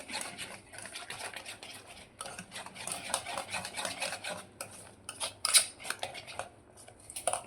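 A spoon mixing dry fruit and nut cake batter in a bowl, with repeated clinks and scraping strokes in an uneven rhythm, close by and fairly quiet.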